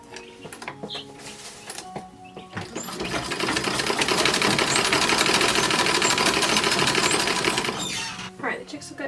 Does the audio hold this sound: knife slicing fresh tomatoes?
no